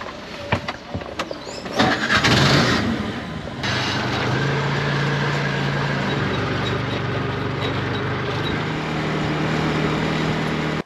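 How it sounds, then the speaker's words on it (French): A tuk-tuk's small engine starting with a brief rattling crank and then settling into a steady, loud, close idling drone that continues unbroken. "On va prendre un tuk-tuk."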